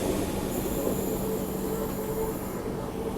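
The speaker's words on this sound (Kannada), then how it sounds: "ಯಾವ್ದು ಇದು ಟ್ರೈನ್?" A Hamsafar Express train on the Ganganagar to Tiruchirapalli route rolls past with a loud, steady rumble and a sustained high-pitched wheel squeal, heard close and alone.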